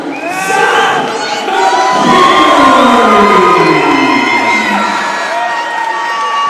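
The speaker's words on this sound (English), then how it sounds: "Just the anticipation of the build-up there from the crowd" A combat-sports crowd roars and whoops before a bout, a loud, sustained wall of cheering and shouting that swells and holds throughout.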